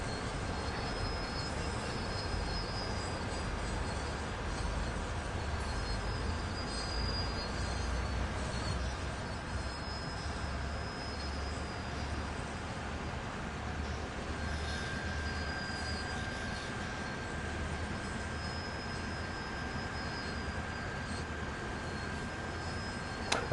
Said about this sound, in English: we'll naturally shed a bit of speed as the train crosses those points